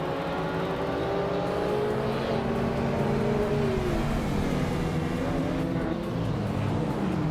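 Several race cars in a racing video game roar off the start line together, engines droning and shifting pitch continuously at steady loudness, with no one talking.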